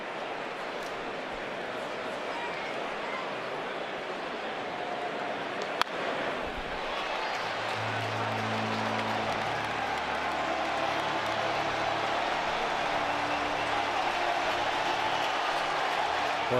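Baseball stadium crowd at a Milwaukee Brewers versus Chicago Cubs playoff game, a steady roar of cheering and clapping from a packed ballpark that swells as fans rise to their feet, with a low horn tone joining partway through.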